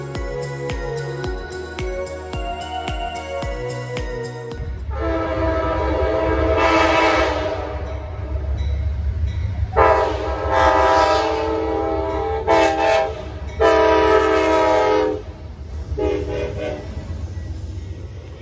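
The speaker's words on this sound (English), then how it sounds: "I was able to capture this train at the Pinhoti Trailhead" A train rumbles past the Pinhoti Trailhead in Heflin, Alabama at night, with a loud, sustained horn blowing in several long blasts over the steady roar of the wheels and cars.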